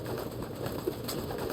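A small parrot in the Metal Gear Solid 2 video game gives a single soft, brief coo-like call over a steady low hum of in-game ambience.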